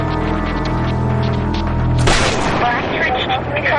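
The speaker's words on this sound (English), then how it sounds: "we think there's someone shooting outside" A loud, close gunshot-like boom from someone shooting outside cuts in sharply about halfway through, over a steady tonal hum and background noise.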